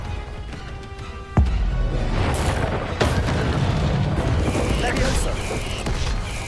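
In Hogwarts Legacy a sudden booming blast from the Confringo spell hits, then another crack follows a moment later, leaving a rumbling, crackling roar behind.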